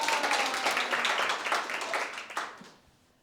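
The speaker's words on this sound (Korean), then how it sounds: "우리 박수 한번 칠까요?" An audience at a brain color therapy talk gives a short round of applause, dense clapping that stays steady before thinning and fading out over about three seconds.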